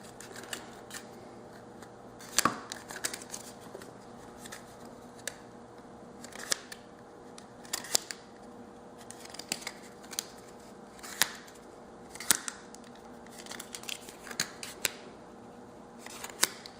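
Scissors snip through plastic parts of an RGB pixel coro candle, sharp isolated cuts scattered in an irregular rhythm, close and fairly quiet over a faint background hum.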